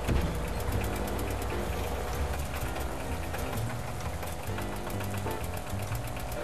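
Moped engine in the mobile game Does Not Commute, ridden slowly after a crash: a steady, buzzing putter running continuously at an even pitch, close and unbroken throughout.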